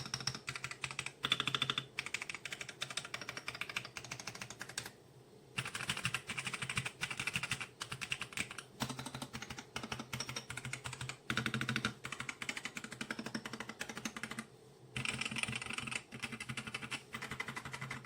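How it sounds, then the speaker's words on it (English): Two mechanical computer keyboards being typed on, a dense rapid clatter of key presses in bursts, close and clear, with short silent gaps between typing runs. "Let's simply listen to the sound performance of these two keyboards."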